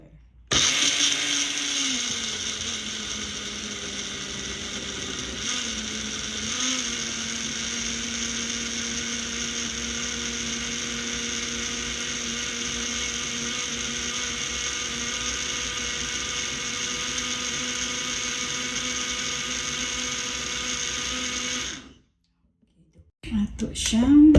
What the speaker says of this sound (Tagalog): So ito siya i-blender.